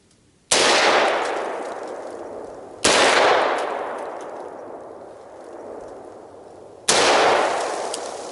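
Three loud rifle shots fired at a target downrange through a tree on an outdoor shooting course, each a sharp crack followed by a long, fading echo, irregularly spaced.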